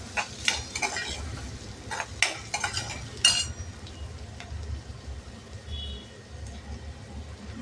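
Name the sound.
onion and tomato being stirred and sautéed in pan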